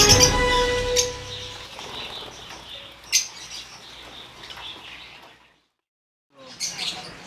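African lovebirds at a breeding aviary, with a burst of wing flapping and scattered chirps and tweets from the flock, fairly close, then a brief silence before more chirping and flutter returns.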